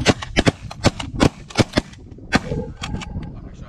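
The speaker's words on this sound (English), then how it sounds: "I shot that one." Shotgun blasts during a goose hunt: a rapid series of sharp, loud cracks in irregular rhythm, some closer and some farther off, with a busy outdoor background between shots.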